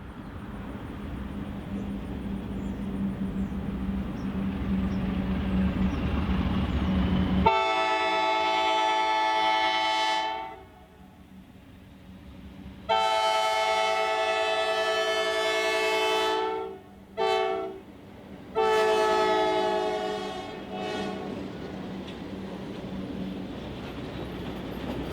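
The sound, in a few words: Arkansas & Missouri Railroad Alco diesel locomotives chugging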